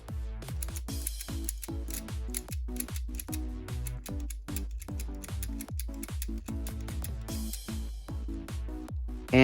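Plastic Lego gears in a Hand of God shifter mechanism turning steadily, giving a rapid, even train of close clicking ticks that runs continuously without talk.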